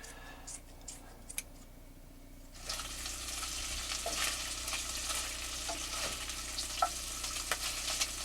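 Small cut pieces of bacon fry in a pan over a low camp heat in a forest. Quiet at first, then a steady, close sizzle sets in, dotted with light pops and ticks, with no talking.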